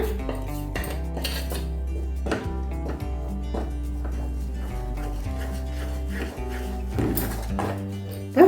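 Ground rice flour is poured into hot sugar syrup in a pot and stirred to make sugar adhirasam dough, with repeated scraping and clanking of a utensil against the pan over a steady low background tone.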